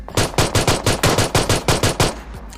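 Rapid pistol gunfire in a video game rings out as about a dozen loud, sharp shots in quick, even succession, close and punchy, then stops.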